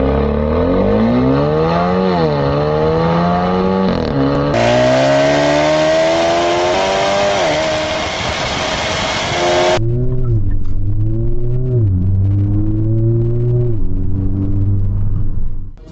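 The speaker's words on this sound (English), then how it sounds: "Let's experience the sports exhaust of this MG together." An MG sports car with a sports exhaust revs repeatedly with a deep, throaty exhaust, the pitch climbing and dropping in bursts, loud and close throughout.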